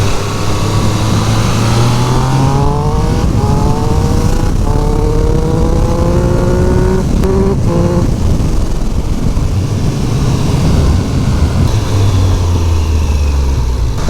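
A 2023 Triumph Speed Triple RS 1200 ridden in sport mode, its loud engine climbing and falling through the gears, with on-off throttle blips and steady wind rush throughout, no talk.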